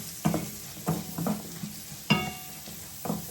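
Tomato, shallots, onion, ginger and green chilli sautéing in a pan, with a steady low sizzle broken by several sharp scrapes and knocks of a spoon stirring, close and clear with no talking.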